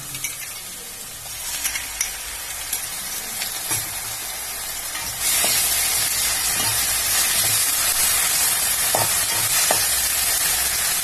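Ginger garlic paste frying in a pan for quail gravy, a steady sizzle with intermittent spoon scrapes; the frying hiss grows noticeably louder and brighter partway through, then holds steady with occasional stirring clinks.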